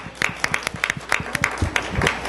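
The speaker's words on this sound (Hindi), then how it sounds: "जोरदार तालियां" A small group at a Hindi poetry gathering in Milpitas, California claps in an uneven burst of applause, sharp hand claps scattered over a couple of seconds, fairly close.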